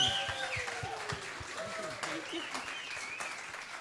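An audience applauding a singer at an evening show, a steady wash of clapping with voices talking over it.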